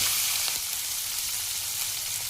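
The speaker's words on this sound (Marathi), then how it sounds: "त्याच्यामध्ये आपण जिरे टाकतोय. त्याच्यात आपण कढीपत्ता टाकणार आहे." Cumin seeds sizzle in hot oil in a pan for a quick besan dish, a dense, steady frying hiss that stays close and even throughout.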